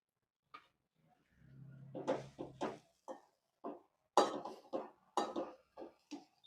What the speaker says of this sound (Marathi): इथं थोडेसे वाफवलेले मटार घालते.